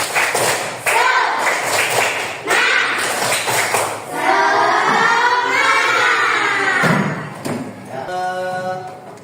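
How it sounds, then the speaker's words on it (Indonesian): A school class of children performs a rhythmic spirit clap, quick patterned bursts of hand claps and thumps alternating with chanting and a teacher's voice, loud and close in a classroom. "Kita tepuk semangat dulu."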